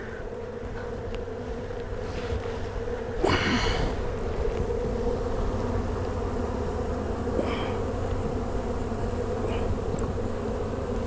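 Steady, dense buzzing of many honeybees at close range in a hive feeder, a continuous hum with a brief louder burst near the start, no voices.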